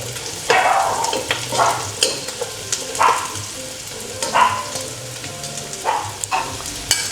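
Garlic sautéing in a pan until golden brown, with steady sizzling and frying and bursts of stirring scrapes close by; no one speaks.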